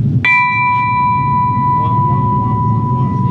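A cast bronze bell is struck once at a bell foundry, ringing with a clear bright strike and a long sustained tonal hum that hangs under steady background noise.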